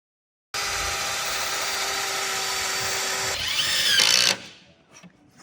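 A Ryobi power drill drives screws into wood while building a trebuchet: a loud, steady whine runs for about three seconds, then strains and shifts pitch before winding down into quiet.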